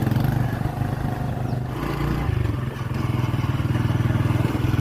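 Motorcycle ridden along a rough jungle track churned up by tractors and trolleys, its mid-pitched engine droning steadily and close for the whole stretch, with a dip and recovery midway and faint clatter over the bumps.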